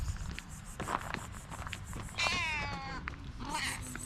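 A street cat gives a drawn-out meow close by, with a shorter call just after, over outdoor background noise and faint scuffling.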